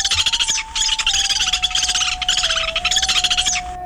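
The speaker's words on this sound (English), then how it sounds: "Lewis's woodpecker." A Lewis's woodpecker (Melanerpes lewis) calls loudly and up close in a continuous series of harsh, rapid, squeaky chattering notes that come in several bursts with brief pauses, and no one talks.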